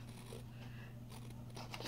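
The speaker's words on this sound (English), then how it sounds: "It's hard working with these big scissors." Big scissors snip a thin sliver off a paper tag, giving faint crunchy cuts and light scraping over a steady low background hum, quiet and close.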